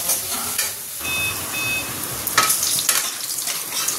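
Garlic, dried red chilies and five-spice seeds frying in hot oil as a tempering for a cabbage dish, a loud, steady sizzle close by with a brief scrape of stirring and a few faint high beeps, no talking.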